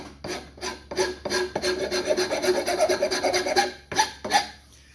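Hand file rasping across wood while fitting a take-down sleeve, heard as close, rhythmic back-and-forth strokes with a gritty scraping texture, a pause and then a few final strokes.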